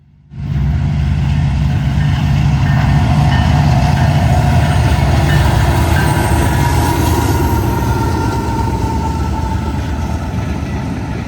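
A freight train led by a lash-up of several locomotives rolls past in Plainfield, a loud, steady roar of engines and rumbling wheels with faint squeals, close by and sustained throughout with no talking.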